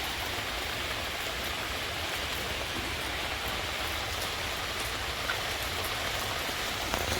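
Heavy rain pours down outdoors in a dense, constant hiss of drops striking surfaces, loud and steady throughout with no voices.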